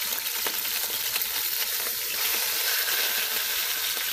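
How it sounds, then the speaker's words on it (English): A pot roast sears in hot oil in a pan on an electric stove, producing a dense, continuous, close-up sizzle and crackle that holds steady throughout, with no voices. "get this bad boy all seared up. We're going to sear all the sides."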